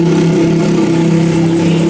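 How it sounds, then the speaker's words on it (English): A very loud motorbike roars steadily close by on a street in Mũi Né, Vietnam, a dense, constant engine drone filling the moment between interview questions. "Very loud motorbike."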